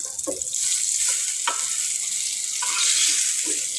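Eggplant pieces frying in a pan of oil, a constant close sizzle with occasional light scrapes and taps as the pieces are turned, no speech.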